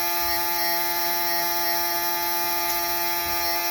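Steady electric hum of a mini excavator cab blower motor running, a constant buzzing drone with fixed tones, close and even throughout.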